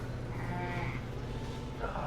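Sheep bleating in a barn during lambing season in Canada, with a black sheep among the flock. Several close, wavering bleats rise over a steady low background hum.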